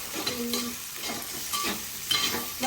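Chopped garlic sizzles and is stirred in a hot pan for a Tamil dried-fish thokku, a close, continuous frying hiss with scraping stir strokes.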